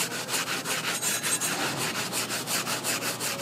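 A fine abrasive pad is rubbed by hand back and forth across an engine head gasket surface, giving a close, rhythmic raspy scrubbing of even strokes with no talking.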